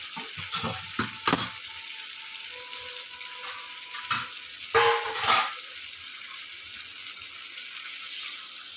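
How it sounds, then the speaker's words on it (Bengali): Hot water is poured into a pan of frying spiced potato and pointed gourd, setting off sharp bursts of hissing sizzle. Two loud flare-ups fade into a quieter crackle. "এই গরম জলটা দিলাম"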